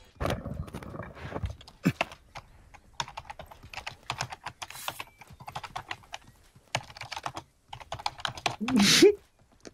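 Loud, rapid keyboard typing clatters close up in irregular bursts, with brief pauses and a short voice near the end.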